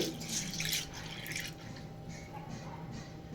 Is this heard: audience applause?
no